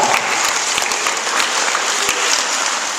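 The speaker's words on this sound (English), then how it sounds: "So give yourselves a great big round of applause." A school assembly audience claps loudly and steadily for a few seconds in a dense, continuous wash of many hands, with no voices standing out.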